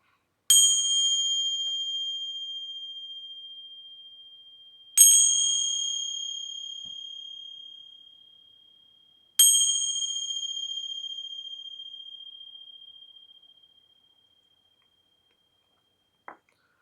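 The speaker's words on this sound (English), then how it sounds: "I'm going to ring some bells" Three separate clear bell strikes ring out a few seconds apart, each with a bright, pure tone that decays slowly into silence, in a quiet setting without speech.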